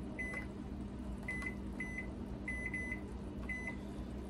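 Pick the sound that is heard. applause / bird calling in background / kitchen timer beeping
kitchen timer beeping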